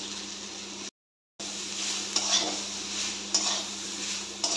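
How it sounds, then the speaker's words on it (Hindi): Mango pieces frying in oil over a very low gas flame for Bengali-style mango oil pickle, a gentle continuous sizzle with scraping stirs against the pan, briefly cut to silence, then resuming with a few louder clinks, no talking. "एकदम लो फ्लेम रे ही आंबटा को भाजीबा को हबो।"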